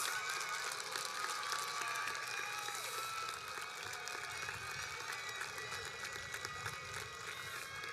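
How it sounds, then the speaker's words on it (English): Graduates at a class of 2021 graduation ceremony applauding their parents, a broad, steady wash of clapping from a large crowd heard at a distance, continuous for several seconds. "Turn around to your parents and give them a well-earned applause."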